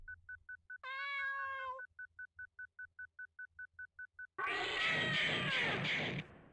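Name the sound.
cat meowing in a video game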